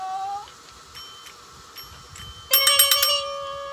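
A tabletop bell rings during a face card game, first several light dings, then a bright, loud burst of rapid repeated rings near the end, heard alone without voices.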